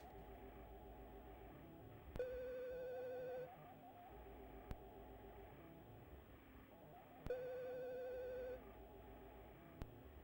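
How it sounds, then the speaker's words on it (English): A telephone rings in two trilling bursts separated by a pause, fairly faint over a low background hum with occasional clicks. "Sounds like a phone's ringing."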